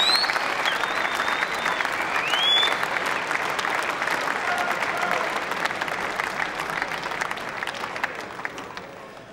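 Sustained audience applause at the close of the 2006 Masters snooker final between Higgins and O'Sullivan, a dense steady clapping from a large arena crowd that slowly fades over several seconds.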